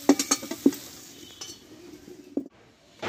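Cooking pan being lifted off the stove: several sharp metallic clinks and knocks of pot and utensil in quick succession, then a lone clank and a soft scrape after a quiet gap, close by.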